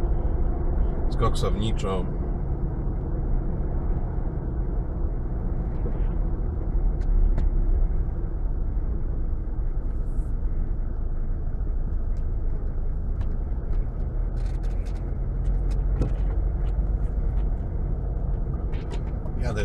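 Steady close engine and road rumble from a car driving along Polish regional road 790 past industrial buildings toward a roundabout, constant throughout, with someone talking over it.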